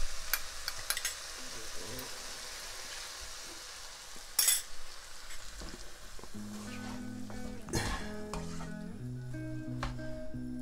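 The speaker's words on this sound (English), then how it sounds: "So I'm gonna stir up all of that seasoning in it" Seasoned chicken hearts stirred in a hot pan for a spicy dish, giving a low continuous sizzle under scattered utensil clinks and scrapes, with a brief sharper clatter midway.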